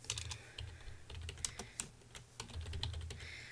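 Rapid typing on a computer keyboard, dense uneven clatter of keystrokes with a few louder key hits, close and steady throughout, no voices.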